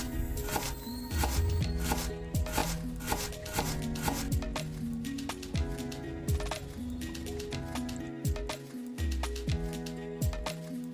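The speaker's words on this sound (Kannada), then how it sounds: "ಕಟ್ ಮಾಡಿ ಇಟ್ಕೊತೀನಿ." A knife chops an onion on a cutting board in quick, crisp, closely spaced strikes, steady and near, with no talking.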